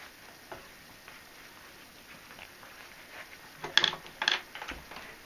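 Scissors cut through thin metal screen mesh with two faint, close snips late in a quiet stretch, after soft scattered handling noises.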